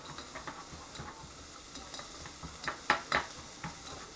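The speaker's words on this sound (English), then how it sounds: "We'll kind of sweat these onions down a little bit, kind of get them a little translucent" Onions sweat in a pan with a soft, close sizzle, broken by light scraping and clinks of a utensil stirring against the pan; no talking.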